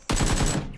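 Automatic gunfire from an action film, a loud close burst of rapid shots lasting under a second.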